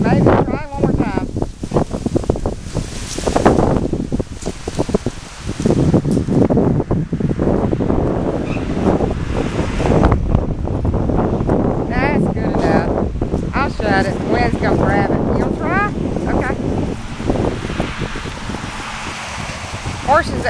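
Strong wind buffets the microphone outdoors around a horse, a constant roaring, rustling gust noise throughout, with a person speaking intermittently over it.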